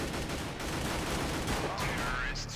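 Gunfire in CS:GO played on an Xbox One crackles as rapid bursts of shots in a dense, loud game mix, with a voice talking over it.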